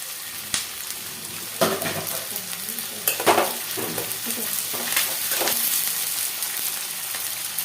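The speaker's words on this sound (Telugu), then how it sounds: "ఇప్పుడు కరివేపాకు వేస్తాను." Curry leaves dropped into hot oil for lemon rice, bursting into a crackling sizzle with sharp pops and spatters, then settling into a steady, fairly loud fry.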